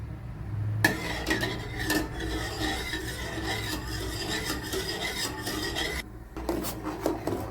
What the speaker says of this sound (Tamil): அப்பப்போ அடிக்கடி கிண்டி விட்டுக்கிட்டே இருந்தேன்